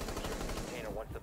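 Rapid automatic gunfire from Rainbow Six Siege crackles in a quick, faint burst of shots lasting about a second.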